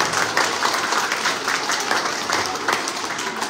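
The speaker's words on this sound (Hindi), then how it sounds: "एक बार जोरदार ताली के लिए।" An audience at a school award show breaks into loud, sustained applause, dense clapping from a large crowd filling the room without pause.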